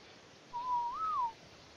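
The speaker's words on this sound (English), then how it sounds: "Yeah, I just whistled neutral." A single rising-and-falling whistle command in the video game Ark: Survival Evolved, a clear tone of about three quarters of a second that stands alone over quiet background.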